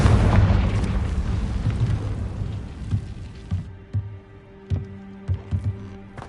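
Confringo spell in Hogwarts Legacy sets off a big booming explosion that rumbles and fades, followed by scattered crackles and small pops as debris settles.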